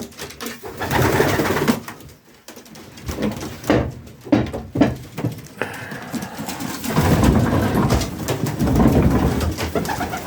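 Racing pigeons coo in a roundabout loft, soft repeated throaty calls close by, mixed with wing flutters, shuffling and the clatter of loft doors.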